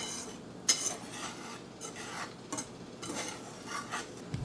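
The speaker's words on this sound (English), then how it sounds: "So just mix it together with a whisk" A whisk stirring 8 grams of pizza yeast mixture in a bowl gives soft, scraping rasps in quick bursts, with a sharper clink near the start, close and fairly quiet with no talking.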